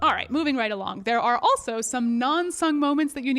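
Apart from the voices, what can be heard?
None of the usual background noises is heard.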